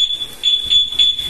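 Motorcycle anti-theft alarm on a Sniper 155 blaring a steady high-pitched electronic tone that swells and pulses in a repeating rhythm, loud and close.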